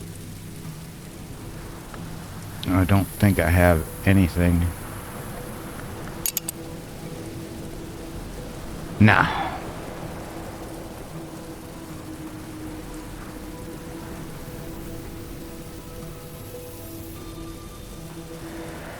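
Steady rain ambience from the video game Book of Hours, a soft continuous hiss running throughout, with a few brief louder sounds and a short spoken aside near the start.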